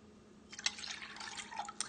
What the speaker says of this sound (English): And then we are going to add 3/4 cup of water.